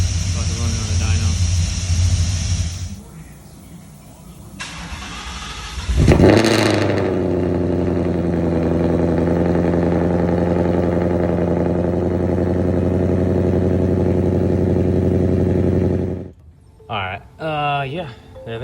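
A Ford F-150 fitted with Kooks long tube headers running on a dyno, its engine catching and then holding a loud, steady, close rumble for about ten seconds before cutting off, with a voice talking beforehand.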